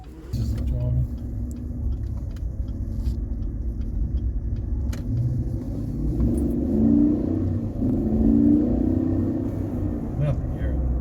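Chevrolet Silverado V8 pickup with a Walkingshaw full exhaust system cruising, a low steady rumble from inside the cab that swells gently, with a voice talking over it.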